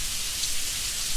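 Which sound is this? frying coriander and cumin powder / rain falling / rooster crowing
rain falling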